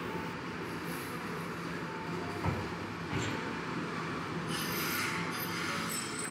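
A Randen tram in Kyoto rumbles steadily along rails, with continuous rolling noise, occasional clanks at the joints, and faint high squeals from the wheels.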